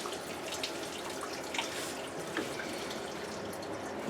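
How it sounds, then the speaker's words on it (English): Coolant pours from a loosened radiator hose on a 1997 Honda Civic, giving a steady, close splashing and trickling stream with faint drips on top, and no talking. "So we'll take this upper radiator hose loose. Let's bring some coolant out."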